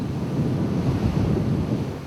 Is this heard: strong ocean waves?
yes